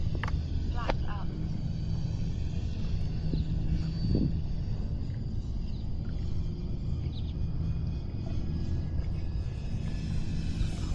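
An E-flite Turbo Timber Evolution V2 RC plane on floats flies overhead, its electric motor a steady hum throughout, with a few brief sharp sounds near the start.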